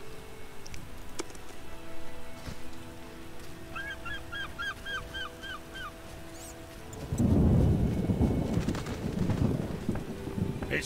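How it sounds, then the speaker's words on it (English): Video game rain patters steadily while a few faint honking calls sound in the distance, then a deep rolling thunder rumble swells up loudly near the end. "It's raining."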